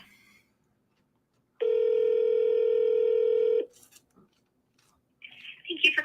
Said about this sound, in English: See if this guy answers the phone real fast.